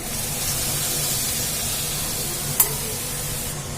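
Boiled cauliflower florets go into a pan of frying tomato masala, giving a continuous close sizzle and hiss with one brief clink of a utensil partway through, no voices.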